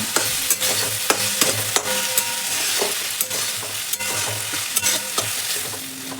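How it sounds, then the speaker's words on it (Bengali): Chopped tomatoes are stirred into frying onions in a pan: a continuous close sizzle with frequent scraping, tapping strokes of the spoon and no talking. "এবার আমি দেবো কেটে রাখা টমেটো কুচিগুলো, দিয়ে ভালো করে নাড়িয়ে নেব।"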